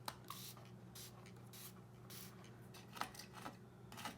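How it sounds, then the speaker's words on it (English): A spray bottle spritzes water onto a new art supply, giving several short, soft hissing bursts spread across a quiet room, with faint handling noises between them. "Like if I'm spritzing this."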